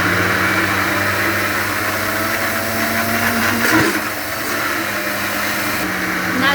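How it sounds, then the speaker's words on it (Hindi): A kitchen blender churns homemade cream into butter with a loud, continuous whirring motor drone that briefly dips in pitch midway, then carries on steadily. "अभी हम शुरू करते हैं इसको ब्लेंड करना।"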